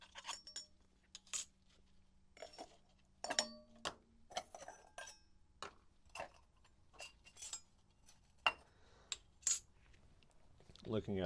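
Metal oil filter case for a Subaru being pried and pulled open through its silicone gasket, a run of sharp metallic clinks and scrapes, close and fairly quiet, with a low steady hum beneath.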